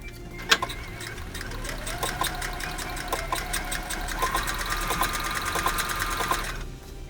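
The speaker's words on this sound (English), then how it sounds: "we're going to do a couple of stitches and see how it looks" A sewing machine stitches a pant hem, running as a fast steady mechanical chatter with rhythmic needle ticks for several seconds, close and fairly loud, then stopping abruptly near the end; no one talks.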